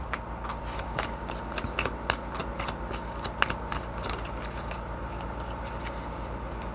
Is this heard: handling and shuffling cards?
yes